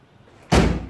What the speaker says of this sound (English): But the door's open fine, closes fine.